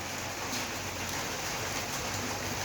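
Steady rain falls outdoors, a dense, even hiss of drops on surfaces that carries on without a break, fairly close and with no voices.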